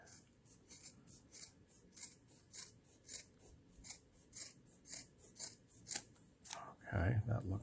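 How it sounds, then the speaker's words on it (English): Scissors cut fabric for a disco ball purse, a close, rhythmic run of crisp snips, with a voice and a handling thump at the end. "And now just cut around here, stop right where the stitching ends"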